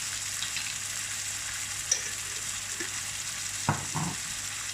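Chicken sizzles in a pan as cumin seeds go in. The frying hiss stays steady, with a couple of soft clicks and a brief crackle flaring up near the end.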